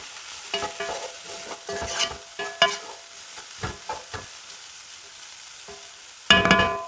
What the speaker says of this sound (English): Allow the onions to cook for 4 minutes, mixing every 2 minutes interval.